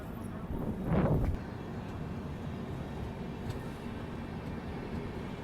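A moving train on an Indian railway line near Gwalior, a continuous rumbling rail noise with a brief louder whoosh around the first second, then steady running sound.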